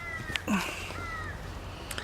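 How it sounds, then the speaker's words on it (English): A pet cat out in a garden gives a clear meow, close and moderately loud, with a short chirp before it and quiet outdoor ambience around. "My kitty cat."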